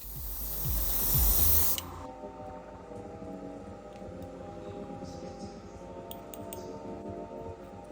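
Matte primer mixed with baby powder sprays from an airbrush into a model car interior tub in a loud hissing burst lasting under two seconds, followed by quieter background hum and small clicks.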